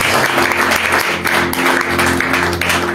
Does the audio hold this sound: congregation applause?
yes